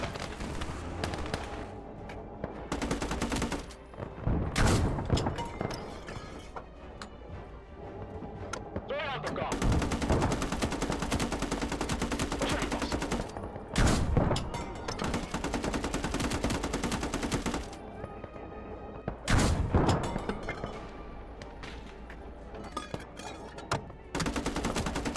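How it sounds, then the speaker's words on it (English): Anti-tank guns firing in a Finnish-themed war video game, sharp booming shots bursting at irregular intervals over a constant rumbling battle background, with several louder impacts spaced a few seconds apart. "I'm just getting shot up with AT guns now"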